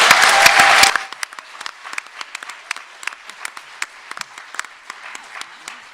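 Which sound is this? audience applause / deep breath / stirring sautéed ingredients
audience applause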